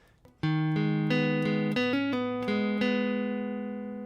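A short guitar riff played alone, plucked notes on the third string ringing out with quick ring-finger hammer-on and pull-off slurs changing pitch in the middle.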